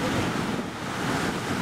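Ocean surf breaking at a beach during a surf contest roars as a continuous loud wash of waves, buffeted by wind noise on the microphone.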